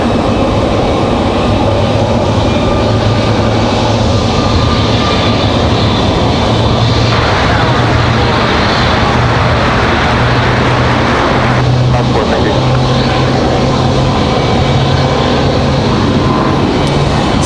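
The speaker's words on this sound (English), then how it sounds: "So we finally have that United Max on the move." A United Boeing 737 MAX moves at Raleigh-Durham airport with a loud, continuous engine rumble and a steady low hum that runs the whole time.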